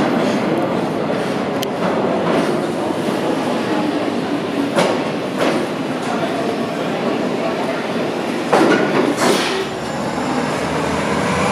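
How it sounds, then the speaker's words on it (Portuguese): A subway train rumbles into the Times Square station in New York, steady rolling roar with clacks and a few sharp squeals of wheels, under a busy echoing platform. "Times Square, e veio o nosso trem."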